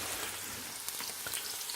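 Fiddleheads sauté in a skillet inside a woodstove, a soft continuous sizzle with faint crackles and pops, quiet and close.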